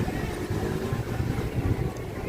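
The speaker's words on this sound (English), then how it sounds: "It's windy." Wind gusting along a Brooklyn street in the Sunset Park to Bay Ridge area, a steady low rumbling buffet against the microphone that runs throughout, with faint street noise beneath.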